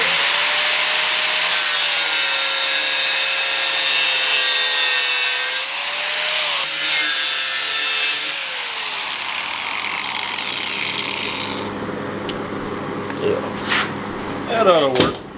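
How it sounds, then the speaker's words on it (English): An angle grinder cuts small notches into steel stock in a blacksmith shop, a loud, steady high whine with wavering pitch for about eight seconds, then easing off and ending in a few light clanks. "first I want to put some small grinds in here"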